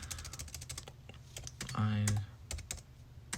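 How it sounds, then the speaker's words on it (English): Someone types on a computer keyboard in quick, irregular clusters of light key clicks, with a short pause partway through. Quiet speech can be heard underneath. "then I start typing away"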